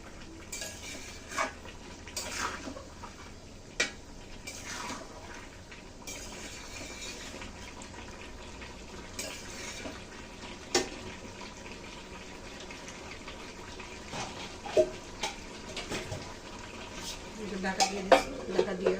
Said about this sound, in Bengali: সুন্দর করে কষাতে থাকবো আবারও।